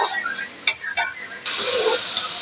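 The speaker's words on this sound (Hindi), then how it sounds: "इसको अब हमने अच्छी तरह से भूनना है ताकि जो हमारा गोश्त है वो अच्छी तरह से गल जाए" Chicken fries in biryani masala for a biryani pulao and is stirred. Two quick scraping strokes sound first, then a loud, steady sizzle surges in and holds for the last second.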